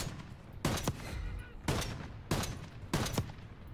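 Gunfire in Call of Duty Black Ops 6 on PS5: four sharp bursts of shots at roughly regular intervals, each a loud crack with a short tail, over a steady low game ambience.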